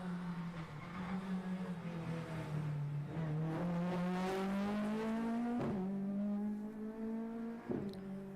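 A Ford Fiesta Mark 1 rally car on a stage of the Cork 20 Rally drives past at a distance. Its engine note rises and falls through several gear changes, fairly faint and heard alone without any talk.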